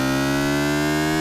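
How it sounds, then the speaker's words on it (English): Synthesizer riser built from three oscillators under a pitch envelope, a dense stacked harmonic tone sliding steadily upward at constant loudness. "apply this envelope to modulate the pitch of the three oscillators"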